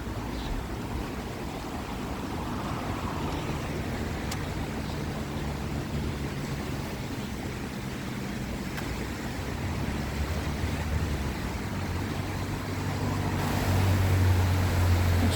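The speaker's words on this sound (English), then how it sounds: "So the river's still raging away." Continuous rushing water of a raging river roars steadily throughout, a dense broadband wash that swells slightly louder near the end, with no voices.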